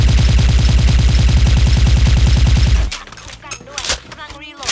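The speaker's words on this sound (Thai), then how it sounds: "เดี๋ยวเรามาลองนั่งยิงกับยืนยิงครับ" An M4A1 with ACOG scope and silencer fires in Special Force 2: a loud, rapid, unbroken automatic burst for about three seconds, then it stops and scattered in-game noises follow.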